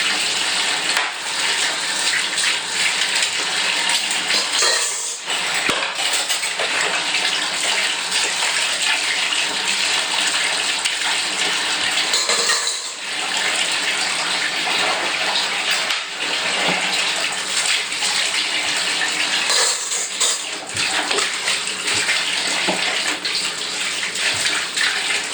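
Dishes being rinsed under a steady stream of running water in a bathtub, outdoors in fog, a continuous loud gushing and splashing with brief shifts as items pass under the flow, and no talking.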